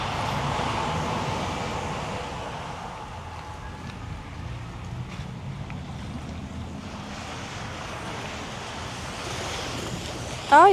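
Steady ocean surf rolls onto a deserted black-sand beach on a Pacific island in Samoa, a continuous wash of waves mixed with wind buffeting the microphone, fairly loud throughout with a brief sharp bump at the very end.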